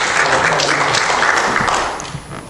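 An audience at a panel forum on Black male unemployment claps in a brief, dense burst of applause that tapers off near the end.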